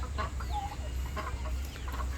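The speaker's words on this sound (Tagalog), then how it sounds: "Mayroong manok sa loob ng pabo." Farm chickens cluck softly now and then over a steady low rumble, the birds sounding moderately close.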